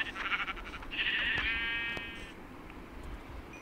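A Minecraft PE sheep gives a clear, near bleat with a wavering tone, followed by quieter game ambience and faint clicks.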